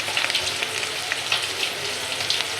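Onion, garlic and green chili fry in hot oil as bottle gourd greens are added, making a dense, continuous sizzle close by, dotted with small pops and crackles throughout.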